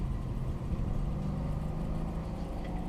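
A Mercedes E550 car engine idles with a low, steady rumble throughout, fairly quiet and close, with no talking.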